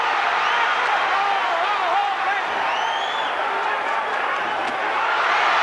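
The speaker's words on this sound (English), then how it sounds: "And the crowd really behind Leonard now." A boxing arena crowd roars in support of Sugar Ray Leonard during his fight with Canadian Donny Lalonde, a dense, sustained swell of cheering and whistles heard from within the crowd, with no clear talk on top.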